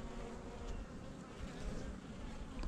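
Honey bees swarming around an opened hive, a dense continuous buzzing drone filling the whole stretch, close and steady with no voices.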